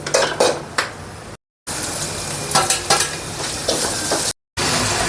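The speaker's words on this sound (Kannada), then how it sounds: "ಬಿಸಿ ಎಣ್ಣೆ ಬಿಸಿ ಆದಮೇಲೆ ದ್ರಾಕ್ಷಿ ಗೋಡಂಬಿ ಏಲಕ್ಕಿ ಇದನ್ನೆಲ್ಲ ಸ್ವಲ್ಪ ಹುರ್ಕೊಂಡು ಸೈಡ್ಗೆ ಇಟ್ಕೋಬೇಕು" Raisins, cashews and cardamom fry in hot oil with a little ghee in a home kitchen, a steady loud sizzle broken by metal spoon scrapes and clinks against the pan, with two short silent gaps.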